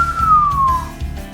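A single clear whistle slides slowly downward in pitch at the gate of a palace courtyard, loud and close, over a low rhythmic background.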